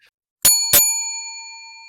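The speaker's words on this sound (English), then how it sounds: "Hey, Chet, let's ring that bell" Two quick bright strikes of a bell ring out loud and close, each leaving a clear metallic tone that hangs and slowly fades.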